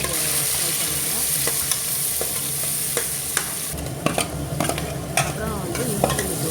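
Tomato and curry leaves fry in a pan with a loud, continuous sizzle, while a spoon stirs and scrapes with intermittent clinks, all close by and without talk.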